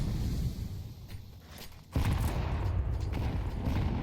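Gunfire from a Counter-Strike 2 match crackles as a dense, continuous rattle of shots, dipping briefly and then surging louder partway through, with no commentary over it.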